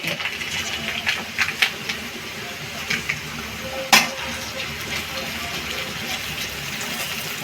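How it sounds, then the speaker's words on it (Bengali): Poppy seeds frying in a pan for a ridge gourd and potato curry, with a soft steady sizzle, a few light stirring scrapes and one sharp clink near the middle. "আমি একটু পোস্ত ভেজে দিয়ে দেবো তরকারিতে"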